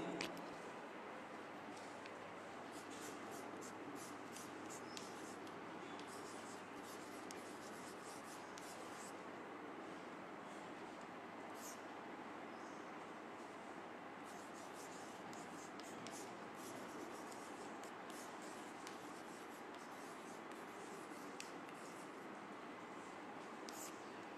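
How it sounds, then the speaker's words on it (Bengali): Chalk or marker writing out an English grammar example on a board during a madrasa class, a steady scratchy rubbing that runs throughout with short strokes and taps, fairly faint in a quiet room, with no talking. "আমরা আসি যদি আমরা একটা উদাহরণ আমি লিখছি।"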